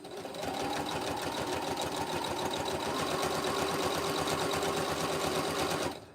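A sewing machine back-tacks along a rag quilt border, running at a steady fast rhythmic whir from start to finish, close and loud, then stopping abruptly.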